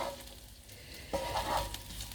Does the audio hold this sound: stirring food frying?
yes